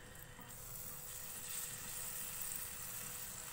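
Chopped garlic fries lightly in hot oil, giving a soft, steady sizzle that stays faint and even throughout with no talk.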